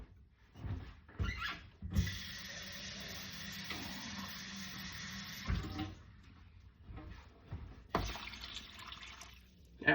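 A kitchen tap runs in two stretches of steady rushing water, separated by a pause, with clunks and handling sounds around it.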